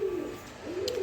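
Two male racer pigeons give a single close, clear coo with a rising and falling warble, heard alone with nothing else in the background.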